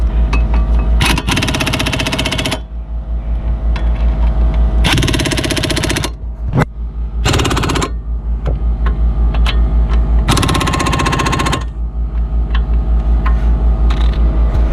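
Ratchet or power tool working loose the top brake caliper bolt on a 2007 Ford Focus, loud and close, with repeated bursts of rapid mechanical clicking and grinding between rumbling pauses.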